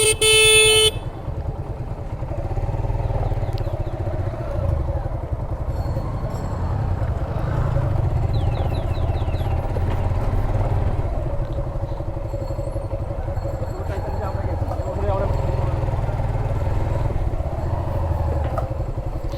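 A Suzuki Gixxer SF 155 motorcycle engine runs with a steady, loud low rumble throughout, with a sharp horn blast at the start and short beeping tones partway through.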